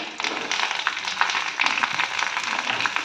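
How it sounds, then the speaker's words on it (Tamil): Steady sizzling and crackling of chopped onions frying on low heat in sesame oil with mustard seeds, fenugreek and curry leaves, a continuous close hiss with small pops, no talking. "அடுப்பை சிம்ல வச்சு வெங்காயத்தை வதக்கிடலாம்"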